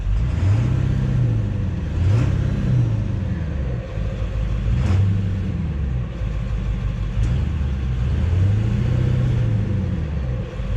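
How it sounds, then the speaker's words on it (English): A 296,000-mile 7.3 Powerstroke diesel running at high idle during a Seafoam cleaning: a deep, steady, loud rumble that swells and wavers in a slow repeating cycle, heard alone. "I have the high idle on right now, cleaning it out with the seafoam"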